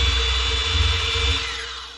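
Electric eel drain-cleaning machine driven by a drill, its motor whirring steadily with a low rumble and tonal hum, loud and close, easing down slightly near the end with no talk.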